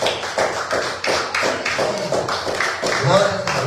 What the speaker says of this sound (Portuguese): mais uma vez as palmas da igreja para o nosso Deus